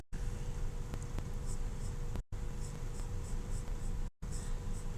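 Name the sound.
pen drawing on paper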